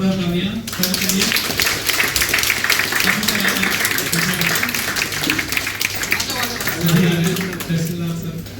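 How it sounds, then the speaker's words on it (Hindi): A crowd at a district collector's farewell gathering in Bilaspur bursts into sustained, dense applause that holds steady for several seconds, with voices murmuring and talking underneath. "एक बार जोरदार तालियां सर के लिए।"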